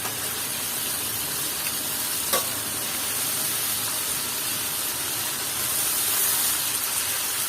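Cabbage added to well-sautéed chickpeas fries and is stirred in a pan for a mixed vegetable dish, giving a steady, close hiss with one sharp clink from the spoon partway through. No one speaks.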